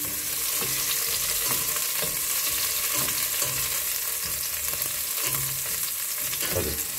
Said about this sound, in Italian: Senti come sfrigola.